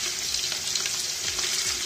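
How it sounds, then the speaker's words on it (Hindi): Minced meat (keema) frying in a pan after sautéing, a steady close sizzle with soft stirring scrapes throughout. "अब हम इसमें डालेंगे कीमा, बिस्मिल्लाहिर्रहमानिर्रहीम, और इसे अच्छे से भून लेंगे।"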